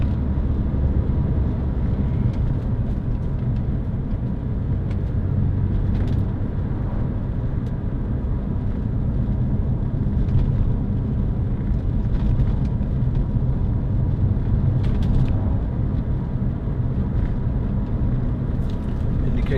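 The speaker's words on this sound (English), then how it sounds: "Nice noise from the engine, good exhaust sound." Engine and exhaust of a 2006 Toyota MR2 1.8 VVT-i roadster while driving: a steady, continuous low drone with road rumble and occasional faint clicks and creaks, heard from inside the car with no talking.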